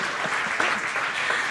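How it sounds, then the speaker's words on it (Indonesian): Applause from the audience at the IDN Times Inspiring Newsmaker 2024 award ceremony, a brief, even wash of many hands clapping at moderate loudness, with no speech over it. "Tepuk tangannya dong."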